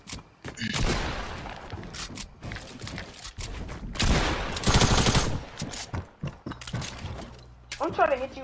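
Gunfire in a shooting video game comes in dense rapid bursts, loud and close, broken by short gaps, with a player talking excitedly over parts of it.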